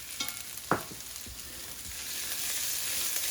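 Tomato paste gets stirred into softened shallots in a hot pan: a quiet, steady sizzle broken by a few soft scraping strokes of a spoon.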